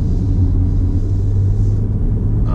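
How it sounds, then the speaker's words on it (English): A 2019 Jeep Grand Cherokee Altitude engine cranks and restarts through start-stop, a loud, steady low rumble running throughout with a brief higher click near the end. "The start stop capability works okay. I mean, you do hear it crank, restart."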